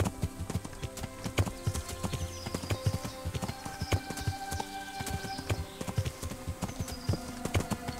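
Horse hooves clip-clopping in a fast rhythmic gallop in Kingdom Come Deliverance, close and steady for the whole stretch, with light buzzing and ambient game sounds underneath.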